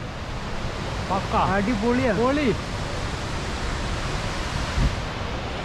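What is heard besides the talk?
Jogini waterfall in Manali with wind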